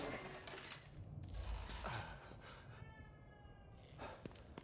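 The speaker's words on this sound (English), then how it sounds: "Man, I love hearing that cat meow in here." A cat meows faintly in the horror game The Evil Within 2, a thin drawn-out call set among quiet mechanical clicks and rattles of the game's surroundings, with no voices.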